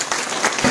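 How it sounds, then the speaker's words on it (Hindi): A crowd in an assembly hall at a union convention claps in a brief, dense, continuous burst of applause. "इस सभागार से जोरदार उनके लिए तालियां होनी चाहिए"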